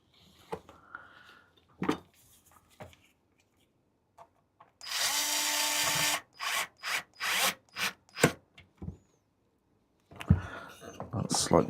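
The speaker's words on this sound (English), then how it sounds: "let's put these screws in" Screws driven in with a power tool during an electronics repair, heard as several short, loud bursts of whirring drive with pauses between them, after quieter handling and clicks, with talk at the start and end.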